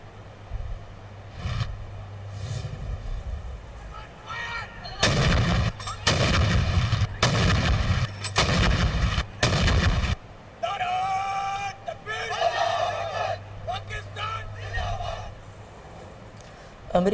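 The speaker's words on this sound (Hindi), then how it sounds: "इस सिलसिले में दिन का आगाज़ लाहौर गैरिजन में पाक आर्मी के चाको बंद दस्ते की जानिब से 21-21 तोपों की सलामी से हुआ।" Pakistan Army 21-gun artillery salute at Lahore Garrison: a rapid series of loud, booming cannon shots in the middle, with background sounds around them, including what may be a voice.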